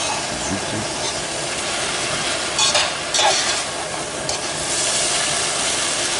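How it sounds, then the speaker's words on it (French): Turkey sauté pieces coated with flour being stirred in a hot pan, a continuous loud sizzle with brief scraping stirs around the middle, close and uninterrupted by speech. "Je remue pour l'englober au mélange."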